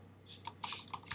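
A handful of quick keystrokes on a computer keyboard, light clicks close by over a faint steady hum.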